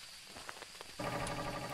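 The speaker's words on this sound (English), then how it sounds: "What's that rain?" Rain in the video game Phasmophobia sets in abruptly as a steady, broad hiss after a few soft footstep-like taps, continuing evenly at moderate level with no talk.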